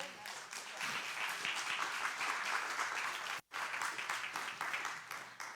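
A church congregation claps steadily together for several seconds, dense and sustained, with a brief pause near the end before the applause resumes.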